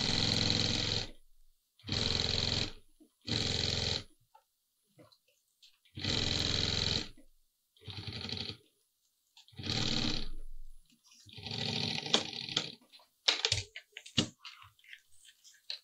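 A double-feed sewing machine stitches along a zipper on a bag in several separate bursts of steady mechanical whirring, each about a second long, with pauses between them and some handling noise at the end.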